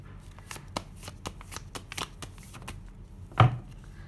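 Tarot cards are being shuffled with soft, irregular riffles and slaps close by. A single louder knock comes near the end, and nobody speaks.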